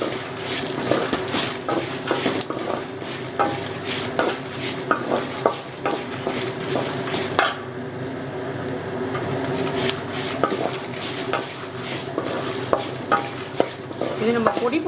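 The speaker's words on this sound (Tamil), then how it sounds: "மிளகாய் வத்தலை போடுறேன்." Dry red chillies and coriander seeds roast in a pan for a Kerala-style chicken roast, a steady close sizzle broken by frequent scraping stirs and light clinks of the spoon against the metal.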